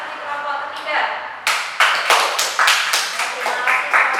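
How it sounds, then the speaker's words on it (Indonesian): Students in a classroom clap for a group that has just presented, starting sparse and building into a loud, close, fairly rhythmic run of claps with a murmur of voices underneath. "Dan kita beri tepuk tangan untuk kasih kelompok ketiga."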